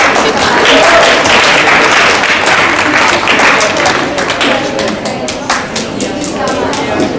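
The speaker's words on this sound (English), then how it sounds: "we give a round of applause to our volunteers" A group applauds volunteers at the close of a college admissions game session, with dense, steady clapping that fills the whole stretch and stays loud throughout, with some voices mixed in.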